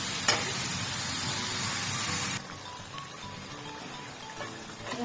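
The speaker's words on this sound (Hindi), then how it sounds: "मसाला मेरा अच्छा सा जो है भून गया है" Ground coriander and spice masala roasting in a pan while being stirred: a loud, even sizzle that abruptly drops to a quieter fry halfway through, with occasional utensil scrapes and no talking.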